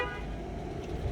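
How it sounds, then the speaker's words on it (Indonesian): Horn of a Toyota Corolla Altis 1.8 V (E210) sounds in a single sustained toot, fairly loud and close, with the car's surroundings humming faintly underneath. "Untuk bunyi klakson"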